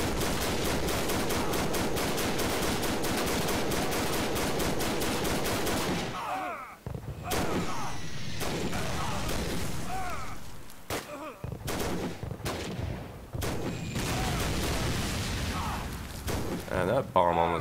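Machine gun fire rattles almost continuously in a World War One video game, dense bursts with booms and breaks mixed in, loud throughout.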